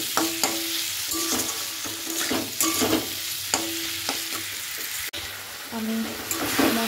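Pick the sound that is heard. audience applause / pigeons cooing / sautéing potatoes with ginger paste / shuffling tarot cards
sautéing potatoes with ginger paste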